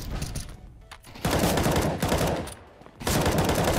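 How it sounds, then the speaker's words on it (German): Automatic rifle fire in CS:GO: two long sustained bursts of rapid shots, loud and close, separated by a brief pause, with no talking over them. "Einmal entweder 3 Schuss abgeben oder Dauerfeuer."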